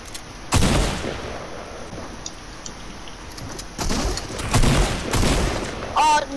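Fortnite gunfire comes in several sharp bursts: one near the start, a cluster of rapid shots later, and a final volley at the end, separated by quieter game ambience.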